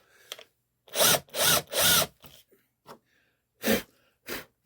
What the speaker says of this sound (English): we've done that part of the drilling with this spade bit